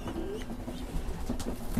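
Pigeons coo softly in a breeding loft, low repeated calls under faint background rustling.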